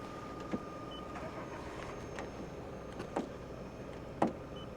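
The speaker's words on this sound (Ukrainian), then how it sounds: "Двигун зараз заведений, працює рівненько." A steady low engine hum from a 2007 Opel Astra H 1.6 idling evenly throughout at moderate volume, with a few faint clicks and taps on top.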